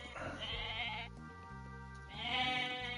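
Goats in the Age of Mythology video game bleat in two clear bursts, one at the start and a louder one near the end, with game music or ambience between them.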